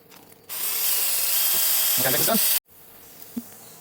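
A motorised paddle whirs steadily through calcium nitrate hydroponic nutrient solution for about two seconds, with a brief voice partway through, then cuts off abruptly, leaving quiet room tone and a small knock.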